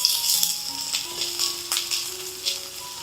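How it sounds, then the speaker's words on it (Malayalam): Chopped garlic sizzling in hot oil in a pan while preparing mat samosa, a steady crackling hiss close by with small pops and occasional stirring clatter, no talking. "എണ്ണ ഒന്ന് ചൂടായതിനു ശേഷം 2 ടീസ്പൂൺ വെളുത്തുള്ളി ചെറുതായിട്ട് കട്ട് ചെയ്ത് ചേർക്കാം."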